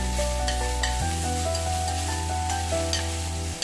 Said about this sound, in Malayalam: ഒരു ഉള്ളി ചെറുതായി കട്ട് ചെയ്തത് ആഡ് ചെയ്ത് കൊടുക്കാം. നന്നായിട്ടൊന്ന് മിക്സ് ചെയ്ത് കൊടുക്കാം.